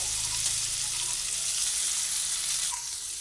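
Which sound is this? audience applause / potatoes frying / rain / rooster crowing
potatoes frying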